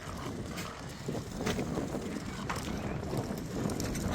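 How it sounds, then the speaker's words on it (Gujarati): A cool outdoor wind blows in Canada as children ride bicycles, buffeting the microphone with a continuous low rumble and rushing noise. Gusts rise and fall slightly throughout, loud and close. "પવન છે થોડો ઠંડો જેવો પણ ચાલે એવું છે"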